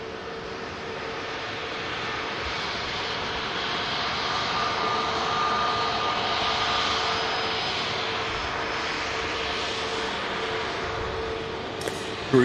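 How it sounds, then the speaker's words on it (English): A Ryanair 737 aircraft at busy Manchester Airport makes a broad, steady engine roar that swells slightly mid-clip and stays loud throughout. "it is busy at Manchester Airport"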